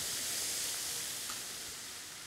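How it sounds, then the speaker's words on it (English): A steady, broad hiss of lamb pan juices sizzling, close and continuous with no voices, fading slightly toward the end. "So get the pan juices sizzling"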